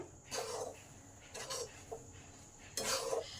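A metal spoon scrapes and clinks against a pan while powdered milk is stirred into kheer, three distinct bursts of stirring separated by quieter pauses, close and clear.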